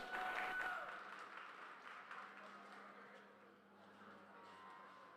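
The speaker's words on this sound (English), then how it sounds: "Let's give both these young ladies a nice round of applause" Audience applause at a youth fair beef breeding show, steady clapping from a crowd that is loudest at the start and then tapers slightly while continuing throughout.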